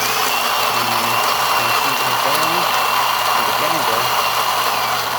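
Gaggia Anima espresso machine running its grinder: a steady, loud mechanical whir and buzz that holds evenly throughout, with a faint voice in the background.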